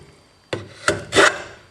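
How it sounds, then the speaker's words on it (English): Jack plane pushed across a wooden board in a woodworking tools lesson, three loud rasping strokes close by, the last one longest and strongest, with near silence between them. "And the jack plane, you want to have a good grip on it."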